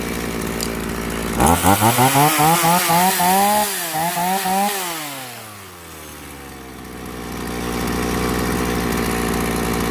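A hard-starting chainsaw with a fuel-starved carburetor roars into a loud, close buzzing rev that rises and falls, then bogs down and drops to a rough idle; no talking.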